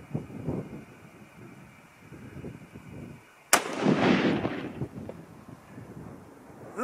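A single loud rifle shot from a Browning BBR bolt-action rifle in 25-06 Remington, fired from a clean bore, cracks sharply out of quiet outdoor background noise, followed by a rolling echo that fades over a couple of seconds.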